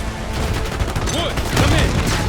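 Rapid bursts of gunfire in the Call of Duty Black Ops 6 video game, dense and loud cracks layered over a heavy rumbling combat din with faint voices.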